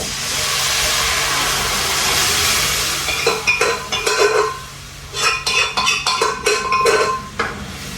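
Dal going into a cooking pot and being stirred, heard as a steady steamy hiss that gives way to irregular scraping clinks of a spoon against metal, close and fairly loud, with no voices.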